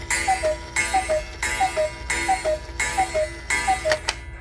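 A cuckoo clock's mechanism ticks in a steady, close rhythm, with small recurring metallic tones repeating through the short stretch and no talking.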